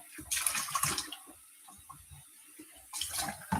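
Hot water runs from a kitchen tap during dishwashing, a steady hissing splash that swells loud at the start, eases to a softer trickle through the middle, then gushes strongly again at the end.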